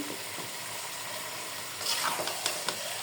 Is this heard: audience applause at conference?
no